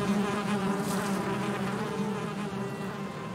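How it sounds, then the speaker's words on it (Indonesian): Bees buzz around a beehive in the Valheim video game, a steady, close, droning hum that holds at an even level with no speech over it. "Ada sarang lebah."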